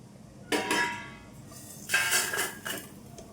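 Roasted peanuts, sesame and coriander seeds slide and rattle from a pan onto a plate in two or three short pours, bright gritty rushes with light metallic clinks, close, with no voices.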